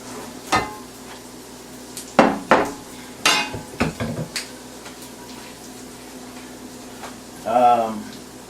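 Metal skillets, a small one and a deep-dish one, clanking and scraping as they are picked up and set down, several sharp knocks in bursts with a voice talking between them.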